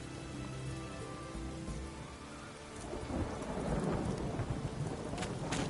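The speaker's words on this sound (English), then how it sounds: "It's raining, of course." Steady video-game rain pours down in The Witcher 3: Heart of Stone while thunder rolls and rumbles, the storm growing louder midway through, with no voices.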